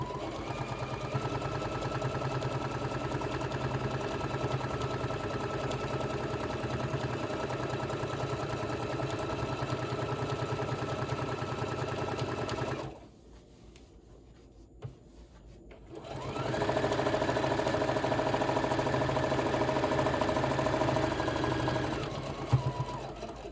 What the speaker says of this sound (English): Now I'm going to do a seam right below it. Line my presser foot up with that seam.